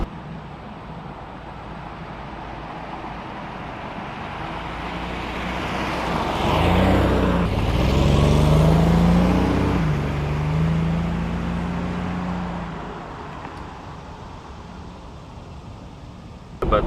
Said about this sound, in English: this car is surprisingly nice and smooth to drive